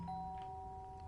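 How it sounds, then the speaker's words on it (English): A game doorbell chimes from Fragments of Him, a single steady two-tone ding-dong ringing clearly over a quiet, hissy background with no talking. "The doorbell."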